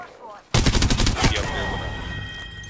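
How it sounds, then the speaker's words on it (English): Automatic gunfire in Apex Legends erupts suddenly and close: a rapid burst of loud shots with a ringing tail as it fades. "Yeah, cause they over here shooting."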